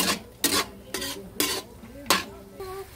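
Ingredients sautéed and stirred in a pan for lomi, with dry fish added: bursts of scraping and rasping at a steady stirring rhythm over a faint sizzle, close and moderately loud with no talking.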